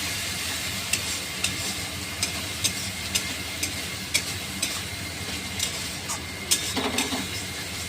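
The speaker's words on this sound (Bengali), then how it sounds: "কুচি রাখা টমেটো একটু ভালো করে কষিয়ে নিতে হবে" Chopped tomatoes with salt, turmeric and red chilli sauté in a pan under a steady sizzle, punctuated by a regular series of spatula scrapes and taps roughly every half second.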